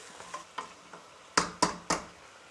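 Liquid cooking off in a pan for a Eurasian Christmas pie, a few soft stirring scrapes followed by three sharp, loud sizzling bursts in quick succession, with no voices.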